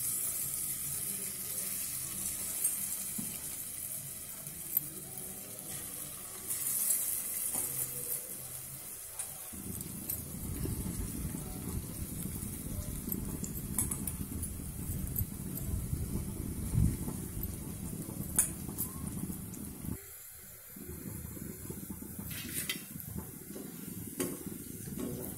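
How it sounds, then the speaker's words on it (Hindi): Pakoris fry in hot oil in a heated kadhai, with a close, continuous sizzle and crackle. The sizzle swells louder partway through, briefly drops, then carries on under faint handling noises. "अब मैं इसमें पकौड़ी तल रही हूँ। कढ़ाई मेरा गर्म हो गया है।"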